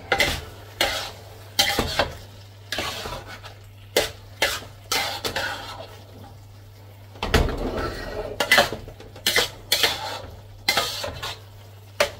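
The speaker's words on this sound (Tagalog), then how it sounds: "Haluin natin." Minced meat with quail eggs being stirred in a pan: repeated scraping and clinking strokes of a utensil against the metal, coming in quick irregular bursts with short pauses, close and fairly loud over faint frying.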